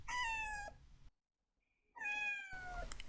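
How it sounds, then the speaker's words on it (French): A small kitten gives two high, drawn-out meows with a quiet gap between them. It sounds close and clear, with no talking. "Omar entendit un petit miaulement qui venait des buissons."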